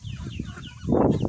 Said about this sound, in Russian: Вот растащил птицам всякие вкусняшки.